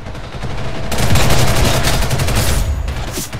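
Rapid bursts of gunfire from the online shooter Ghost in the Shell: First Assault, loud and close, with dense overlapping shots over the whole stretch and no talk.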